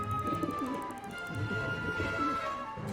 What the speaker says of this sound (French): Mais comment se débarrasser de ce pigeon?